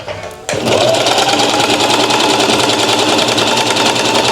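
A sewing machine set to its longest stitch length runs steadily, a continuous close whirring motor hum with fine rapid rhythm that starts abruptly after a brief quiet moment and carries on without pause.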